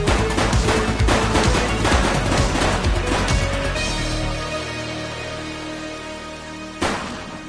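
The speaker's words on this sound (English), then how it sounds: "He's shooting!" Gunfire in The Precinct police video game on PS5, a loud dense volley of rapid shots for several seconds, then a trailing rumble and one more sharp bang near the end.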